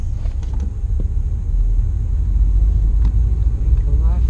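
Manual transmission car coasting with the clutch in over a parking-lot speed bump, a steady low rumble of tires and engine close by with faint creaks and clunks as the car rolls over.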